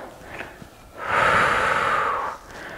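A yoga student's slow breath, drawn in through the nose and let out during a flowing warrior pose, swells into a long, airy rush that lasts about a second and a half before fading, close and fairly loud with no talking.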